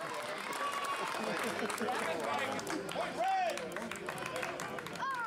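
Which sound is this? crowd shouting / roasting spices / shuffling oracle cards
crowd shouting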